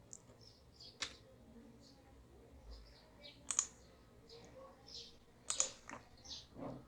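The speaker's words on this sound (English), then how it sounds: "I just type here something like buy computer" Light, sparse clicks of a computer keyboard and mouse while a search is typed into Google, faint and close, with scattered keystrokes in small bursts against a quiet room.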